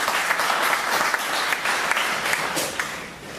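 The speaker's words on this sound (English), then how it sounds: "you should give yourselves a round of applause for keeping us alive" Members of an annual general meeting applaud together, a steady dense round of clapping from a seated crowd that holds at an even level throughout.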